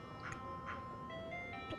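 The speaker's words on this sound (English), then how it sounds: "Am I gonna get run over by the ice cream truck?" A tinkling ice cream truck jingle in the Giraffe Town video game, a thin melodic chime playing a few bright notes over a faint low rumble, quiet and steady.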